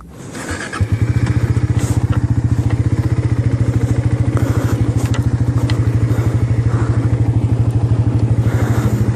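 A Suzuki motorcycle engine runs in first gear, giving a close, steady, rapid pulsing throb that lasts throughout with no voices.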